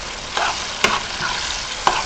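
Seasoning frying in a pot for Jamaican corned beef, with a steady hiss and sizzle broken by three sharp scrapes of a spoon stirring, close and fairly quiet.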